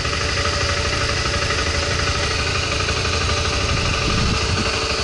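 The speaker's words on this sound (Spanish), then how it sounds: "O apaga la moto y lo hacemos de nuevo, ¿no?" A motorcycle engine idles nearby with a steady, loud, rumbling drone and even vibration, unbroken and without talk.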